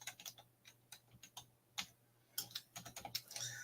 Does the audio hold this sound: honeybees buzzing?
no